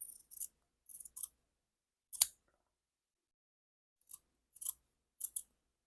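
Scissors snip through craft material and fabric while making junk journal bookmarks from Dollar Tree supplies, a few quick close cuts with pauses between, plus a sharper single snip in the middle; no talking.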